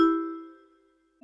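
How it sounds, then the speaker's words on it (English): A single MIDI vibraphone note rings out clearly and fades smoothly over about a second, followed by the sharp start of another tone. "Vibraphone,"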